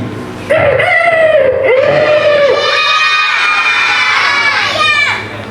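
A voice imitates a chicken crowing and clucking at a primary school event, loud and close, with children's voices and crowd noise around it.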